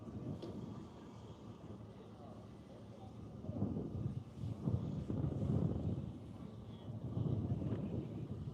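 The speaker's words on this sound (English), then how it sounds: "It certainly is windy out here." Steady low rumbling wind buffeting an outdoor microphone at Grissom Air Force Base, swelling louder in gusts toward the middle and end, with no clear talk.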